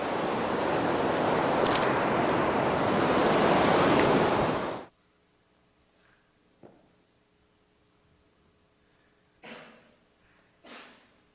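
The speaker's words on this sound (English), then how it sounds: "Water's coming in on you, Neil, so you know." Ocean waves wash in on a shore as a loud, steady rushing surf that cuts off abruptly after about five seconds, followed by quiet with a few faint knocks and brushing noises.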